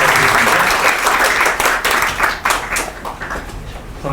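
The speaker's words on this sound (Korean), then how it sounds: "우리 자리에 함께 하시는데 한번 먼저 박수로" An audience at a presentation applauds in a burst of loud, close hand clapping that gradually thins and tapers off over a few seconds.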